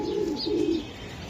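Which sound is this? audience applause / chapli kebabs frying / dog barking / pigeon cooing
pigeon cooing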